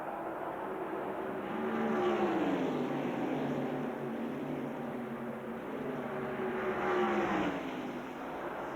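NASCAR stock cars at the 1994 Winston Select 500 at Talladega lap slower traffic, a broad steady engine roar that swells and fades as the packs sweep by, heard from a distance with no talk.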